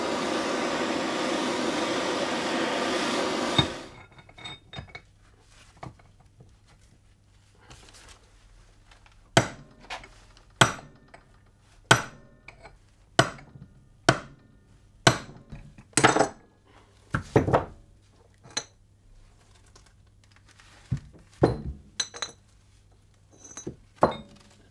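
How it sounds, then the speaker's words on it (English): A hammer knocks a needle roller bearing out of a Classic Mini front upper suspension arm. A steady noise stops and gives way to a run of sharp, ringing metallic strikes at uneven intervals, loud and close, with faint clinks between them. "I'm going to try and bang it out from the inside."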